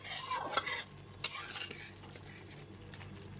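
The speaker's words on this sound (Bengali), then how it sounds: "চিনিটা দিয়ে খুব ভালো মতো মিশিয়ে নিলাম" Salt and sugar being stirred into a vegetarian taro curry in a pot: soft scraping and a sharp utensil clink against the metal, fading to quieter stirring over a faint sizzle.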